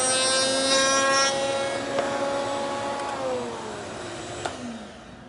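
A router table spins down after routing a wooden workpiece, its steady high whine slowly falling in pitch and fading at close range, with a few faint clicks.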